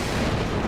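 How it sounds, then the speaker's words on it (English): A dense, continuous rumbling roar of blasts and booms in the video game Final Fantasy XIV, loud and close, with no clear gaps between them. "Explosions everywhere."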